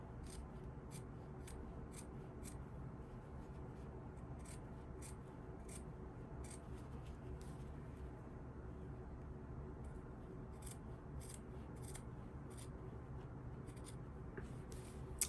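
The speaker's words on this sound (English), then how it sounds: "So we're grading, we're going to cut this all the way around." Scissors snipping through fabric seam allowance while grading a garment seam, quiet irregular crisp cuts scattered over a low steady room hum, fairly close, with no talking.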